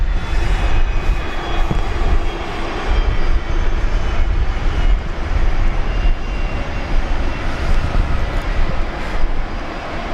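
Fokker aircraft engines starting up and running at Brisbane Airport, a steady, loud broadband roar that holds evenly throughout with no talk over it.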